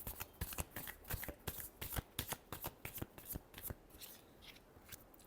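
Tarot cards are shuffled by hand in quick, close riffling bursts, a rapid, irregular series of crisp flicks that fades toward the end, quiet and alone.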